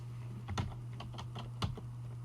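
Typing an IP address on a computer keyboard, a handful of quick, soft key taps over a low electrical hum, close and quiet.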